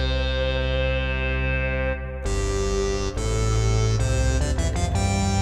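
MOOD synthesizer iPad app playing a slightly detuned sine-wave sub oscillator: a loud, sustained deep drone with layered harmonic tones that shift and break into quick stepped changes toward the end, no voices.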